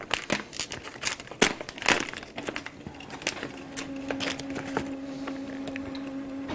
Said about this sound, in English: So whilst it's doing that I'm going to open this package here.